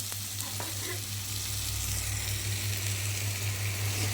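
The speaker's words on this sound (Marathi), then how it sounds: "हलवून घेऊया चांगला मस्त" Chicken biryani masala frying in a pan gives a steady, close sizzle with soft stirring scrapes and a constant low hum underneath, with no voices.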